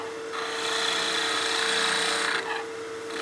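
A lathe tool smoothing the outer round of a turned wooden bat house ornament gives a steady, close rasping scrape that holds for about two seconds, then eases off, with a constant motor hum underneath and no speech.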